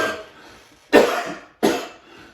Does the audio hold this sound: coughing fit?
yes